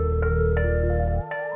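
A synth keyboard melody plays over a sustained low bass drone in a virtual ambient beat. A few bright notes are struck in a bouncy triplet feel, and then the low layer drops out near the end, with no talking.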